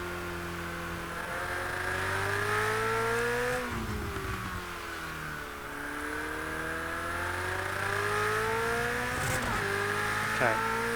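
Ferrari 488 GTE race car engine in a racing simulator game, revving up through the gears in loud rising sweeps with sharp drops at each shift and brief tyre squeal, steady and close throughout.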